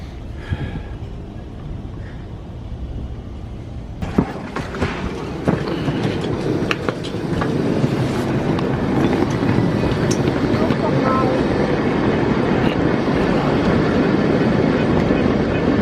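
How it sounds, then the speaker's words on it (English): A train travels toward Cologne, its rumble and clatter quiet at first, then growing into a loud, steady roar of wheels and carriage noise from about four seconds on, with scattered clicks and thumps. "Train 2, heading for Cologne."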